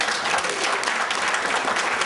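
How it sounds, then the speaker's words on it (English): A room of guests at a golf-day fundraising dinner breaks into loud, dense applause, continuous many-handed clapping throughout with no speech. "A big hand of applause to everybody else"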